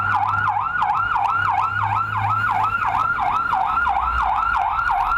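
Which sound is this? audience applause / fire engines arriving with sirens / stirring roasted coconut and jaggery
fire engines arriving with sirens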